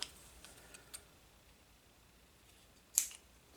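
Scissors cutting material during an ESC install on a Redcat Gen 8 RC car, a few faint snips followed by one sharper, louder cut near the end in a quiet room.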